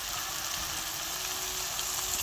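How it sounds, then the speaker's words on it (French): Tomato fries with turmeric in a pan for a fish sauce, a constant close sizzle that stays even and unbroken, with no voices. "vous pouvez voir que la tomate a bien frit"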